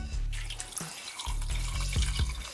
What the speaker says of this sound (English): First things first, let's add 8 cups of water.